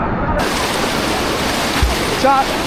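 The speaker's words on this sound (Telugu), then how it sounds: "చూడండి ఇది కల్లు వాటర్ ఫాల్." A dense, constant roar of falling water from Kalu waterfall at Malshej Ghat, Maharashtra, fills the scene, close and loud, with a brief voice near the end.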